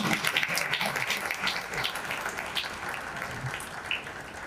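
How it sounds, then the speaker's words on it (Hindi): Audience applause at a memorial awards ceremony, a crowd clapping steadily and warmly for the full stretch, moderately loud and slowly tapering slightly toward the end, with no voices over it. "हम सभी हमारी जोरदार तालियों के साथ इस बात का अभिनंदन करें"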